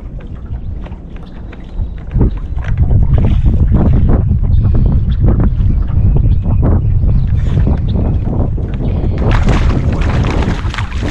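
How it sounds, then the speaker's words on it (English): Strong wind gusts buffet the microphone on Lake Santa Margarita, a loud rumbling roar that swells and surges unevenly, with water and boat sounds mixed in and no talk. "Man, I love it when the wind kicks up like this."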